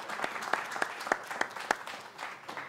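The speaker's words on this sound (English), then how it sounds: "Go ahead, clap." Audience clapping for a high school contestant at an oratorical contest, a steady moderate patter of hands with a few sharper individual claps, continuous throughout without talk.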